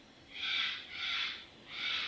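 Owl hooting heard from inside a house, three slow, drawn-out hoots spaced evenly and fairly loud, with nothing else audible around them.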